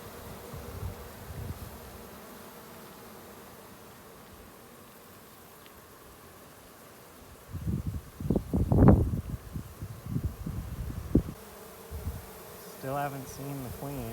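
Honeybees swarm around a removed beehive in a desert setting, a steady close buzzing with rustling and handling noise that grows louder midway, with a brief voice near the end.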